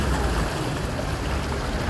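Floodwater rushing through streets after heavy rain in the northeastern Brazilian backcountry, a loud, steady broadband roar of flowing water that fills the whole stretch without letup.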